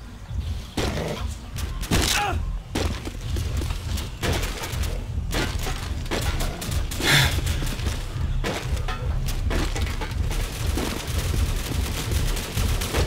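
Gunfire from the Call of Duty video game, set in Rio's Babilônia area, cracks repeatedly in sharp bursts and single shots over a steady low rumble, fairly loud throughout.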